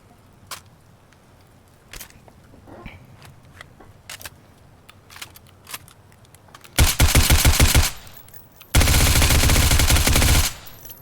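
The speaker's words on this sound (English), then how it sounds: "Let me just find a gun that is loud and shoot it." Loud bursts of automatic gunfire at a shooting range in a video game, two sustained rapid volleys of roughly a second each, preceded by scattered sharp clicks and single pops, with no talking.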